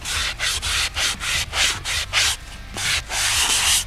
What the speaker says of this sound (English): I'm just kind of going over it with a sponge here that's got some grit to it, just to kind of give a little bit of a smooth over.